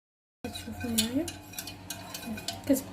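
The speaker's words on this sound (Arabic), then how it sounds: "وغادي نبدا نخلط كلشي." Clinking and scraping of a utensil stirring a mixture with sugar in a bowl, close up and fairly steady, with soft tapping against the sides.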